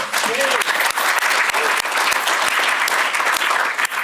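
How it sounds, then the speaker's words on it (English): Loud audience applause at a repair summit, dense and continuous from start to finish, many hands clapping together at close range. "I would like Julie to get a round of applause."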